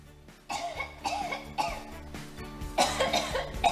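A run of repeated coughs with no mask, close and loud, coming in bursts with brief gaps between them, the last ones the strongest.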